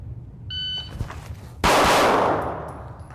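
Handgun fire during a live-fire drill, a shot timer beep followed by one loud, close blast with a long echoing decay; a second shot is not clearly separated, and no one speaks.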